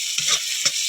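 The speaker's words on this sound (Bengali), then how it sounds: "পরিমাণ মতো হলুদ গুঁড়ো, পরিমাণ মতো নুন দিয়ে কষিয়ে নিতে হবে সুন্দরভাবে" Paneer curry with turmeric and salt being stirred in a hot pan: a steady sizzling hiss with two brief scraping strokes of the spoon, close and alone.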